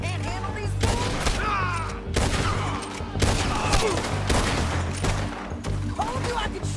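Repeated gunfire from a Red Dead Redemption 2 shootout, loud volleys of shots cracking in quick succession with a continuous roar of battle beneath and voices speaking over the din.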